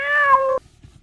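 A single cat gives one clear, close meow lasting about half a second, then cuts off to near silence.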